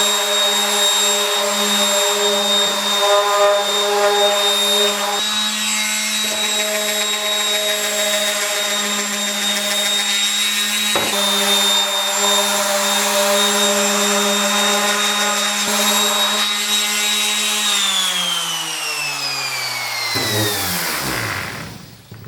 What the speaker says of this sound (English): So I've got my orbital sander here. Got 220 grit on there.